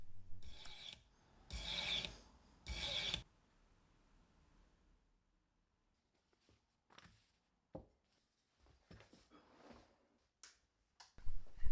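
Three loud, close rasping strokes of a file shaping a bevel on a steel push graver, followed by quieter scattered scrapes and taps after a pause.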